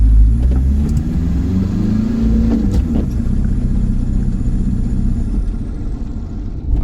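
A VW T3 van fitted with a TDI engine accelerates hard, a loud close engine rumble building in revs and then holding a steady roar from inside the moving van, with no voices.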